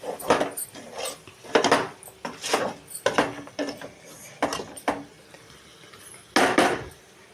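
Coriander being mixed into chicken fry in a pan: repeated metallic scrapes and clanks of a spatula against the pan, coming in irregular strokes.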